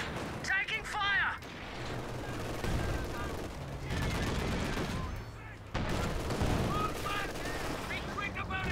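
Rapid gunfire in a tank combat video game, bursts of machine-gun fire and heavier cannon blasts rolling over a rumbling engine, loud and dense, with soldiers' voices shouting over the din.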